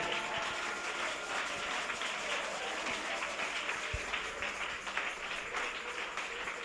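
A church congregation at a French-language prayer service claps and applauds in a continuous, even wash of hands, with a faint murmur beneath and a sharp knock near the end.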